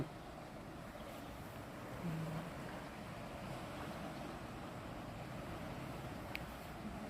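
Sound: strong river water flowing

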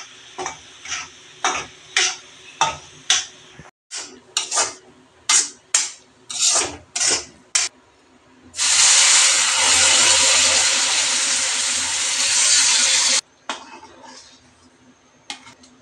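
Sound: semolina roasting in hot ghee in a wok

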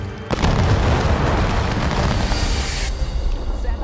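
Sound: film sound effect of a volley fired by 750 soldiers

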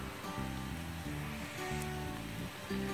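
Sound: potatoes and cauliflower roasting in a pan

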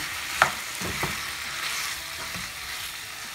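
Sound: pepper chicken being stirred in a pan after adding salt

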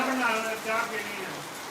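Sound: heavy rain falling

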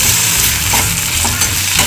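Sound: onion and tomato sautéing in pan

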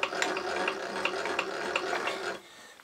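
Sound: milling machine milling a steel model steam engine slide block

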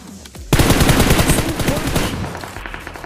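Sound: gunfire in a mobile battle royale video game

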